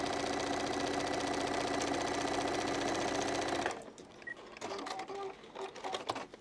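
A domestic sewing machine stitches a pinned corner-to-corner line on a flying geese quilt block, a fast even whirring run that stops partway through, followed by scattered clicks and handling noises.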